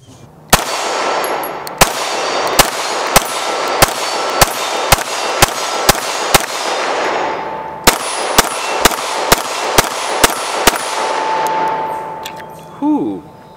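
An STI Staccato P pistol shooting 124-grain rounds outdoors, about sixteen sharp, loud shots in a steady rhythm with a brief pause partway through, followed by a faint voice at the end.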